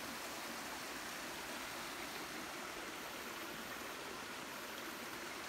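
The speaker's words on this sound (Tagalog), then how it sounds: "tubig galing sa falls" A hidden waterfall on Burias Island in Masbate, Philippines, its clear water pouring in a constant, even rush of white noise with no pauses, steady and fairly soft throughout.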